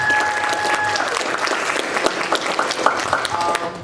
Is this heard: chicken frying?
no